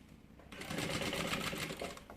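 A sewing machine stitches a bag seam near a half-ring in one short, steady run that starts after a brief quiet moment and hums at moderate level.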